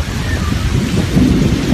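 Heavy rain pours steadily onto a leaf-covered plantation canopy, a dense, continuous roar with rumbling thunder rolling underneath throughout.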